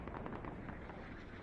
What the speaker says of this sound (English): they're trying to mortar it down